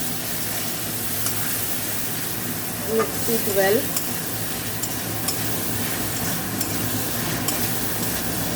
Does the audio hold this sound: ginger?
yes